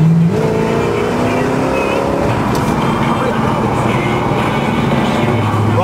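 A Pontiac GTO muscle car with a big 455 V8 rumbles loudly and steadily, close by, its engine note rising and shifting as it revs, with someone talking over the noise.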